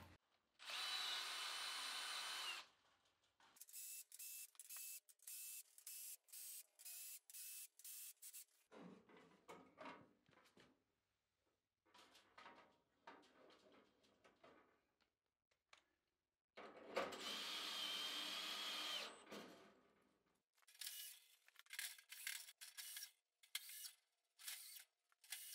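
A cordless power drill driving and tightening screws on the side of a metal repeater rat trap, with repeated bursts of high whirring and ratcheting that stop and start, close and alone with quiet pauses between.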